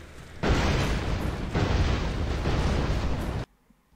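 Mortar blast in the video game Armed & Dangerous, a loud, close, broad roaring explosion that swells twice and holds for about three seconds before cutting off sharply.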